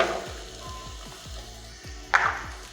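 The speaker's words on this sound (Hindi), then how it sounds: "इसे भी हल्का सा फ्राई कर लेंगे" Diced carrots and onion frying gently in a pan over low heat for hot and sour soup: a soft, steady sizzle with light scraping stir strokes and a brief clatter near the end, fairly quiet and close.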